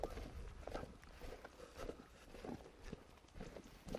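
Horses being led on foot along a country track give faint, irregular hoof clip-clops on the ground amid quiet outdoor ambience, with no talking.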